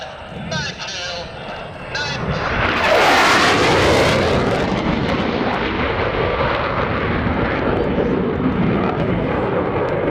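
An F/A-18C Hornet jet making a high-speed pass at an airshow, a loud roaring rush that swells suddenly and then holds as a broad, steady blast, with an announcer talking over it.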